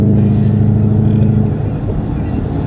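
A loud 860 whp Ford Mustang engine roars under hard acceleration, with a strong low rumble filling the clip before it eases slightly toward the end.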